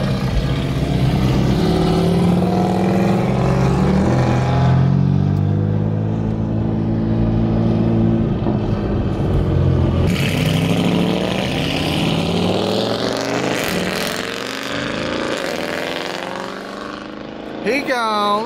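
A widebody Lamborghini Urus revs and drives close by, its loud engine rising and falling through several pulls with shifting pitch, while people talk over it.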